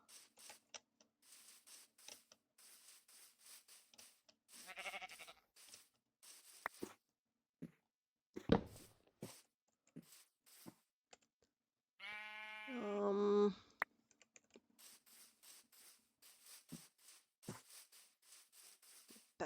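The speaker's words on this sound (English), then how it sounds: "Did you grow your wool back there, sheepy?" A Minecraft sheep lets out a wavering bleat midway, surrounded by sparse clicks, taps and footstep-like game sounds in otherwise quiet gameplay.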